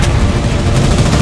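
Loud, dense gunfire in the online war game Foxhole, a continuous crackling barrage of rifle and machine-gun shots filling the whole moment, with no talk heard.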